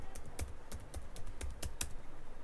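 Rapid, irregular keystrokes on a computer keyboard as a Linux terminal command is typed, crisp close-up clicks with no speech.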